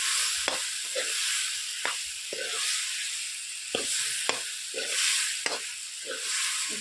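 Potatoes broken by hand sizzle steadily in a pan while a spatula scrapes and stirs them in repeated sharp strokes, close and continuous with no talking.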